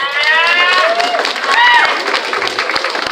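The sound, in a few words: applause for a graduating student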